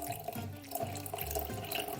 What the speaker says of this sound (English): And now we just mix it with some water.